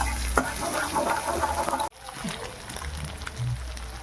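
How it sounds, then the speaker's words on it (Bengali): Ridge gourd and chili fry in oil in a pan, a steady sizzle and crackle with soft stirring knocks, broken by a brief sharp cut partway through, close and moderately loud with no voices. "ঝিঙেটা লঙ্কাটা একটু ভাজা হয়ে যাক"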